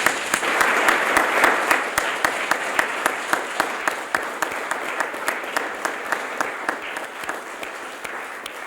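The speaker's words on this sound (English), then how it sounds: "let's give all of these children a round of applause" Applause for high school mock trial students at a statewide championship, a full crowd clapping that thins into a few sharp, rhythmic individual claps toward the end.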